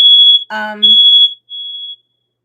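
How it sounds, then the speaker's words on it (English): A loud, piercing smoke alarm tone, set off by cooking on a stove, sounds in long beeps, briefly interrupted by a nearby voice, then one more beep before it stops. "Probably waved the towel in front of the smoke alarm."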